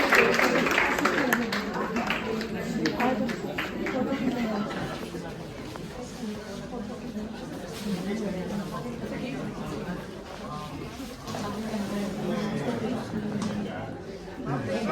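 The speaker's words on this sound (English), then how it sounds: "Give a huge round of applause, everyone." Audience clapping at a retirement function, scattered applause beneath steady crowd chatter and talking voices, a lively indoor room throughout.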